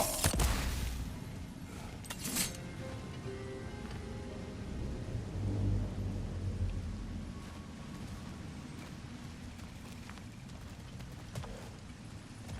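Stormy wasteland of Alfheim in God of War Ragnarok: steady rain-like hiss and low rumbling thunder roll continuously, with a few sharper bursts near the start and a swell midway, no talking.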